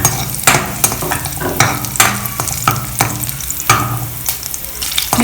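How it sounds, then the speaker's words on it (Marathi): Chillies fry and get stirred in a pan with garlic for restaurant-style chicken chilli, giving a steady loud sizzle broken by regular scraping strokes of a spoon, close and with no voices. "मिरची घालूया."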